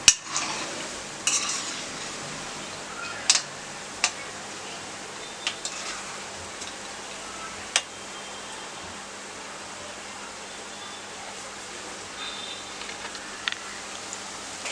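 Cabbage manchurian balls deep frying in hot oil give a steady, soft sizzling hiss throughout, with a few sharp clinks of a utensil against the pan scattered on top and no talk.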